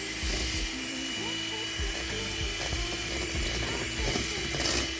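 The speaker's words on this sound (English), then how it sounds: "We're using a hand mixer for convenience." A hand mixer whirs steadily through tres leches cake batter with sugar, vanilla and milk, a continuous motor drone with rattling beater clicks and bowl contact throughout, fairly close, with some talk over it.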